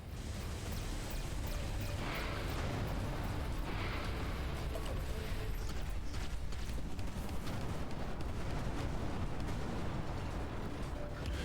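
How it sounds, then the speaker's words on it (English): A barrage of torpedoes explodes in the space combat game Everspace 2, a dense, continuous roar of overlapping blasts and rumbling booms that stays loud and unbroken throughout, with no pauses between impacts. "there is a barrage of torpedoes incoming"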